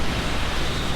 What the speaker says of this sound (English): Sorry if you hear like fan noise in the background.